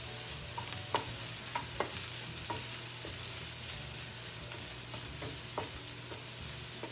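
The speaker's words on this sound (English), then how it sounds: "While that's cooking, we're going to put some garlic." Three crushed garlic cloves fry in a pan for a crab frittata, giving a steady close sizzle broken by regular light clicks of stirring.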